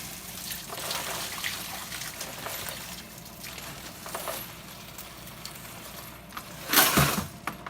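Dirty water trickles and splashes steadily as it is poured out of a brass-cleaning tumbler, with a louder gush and clatter near the end.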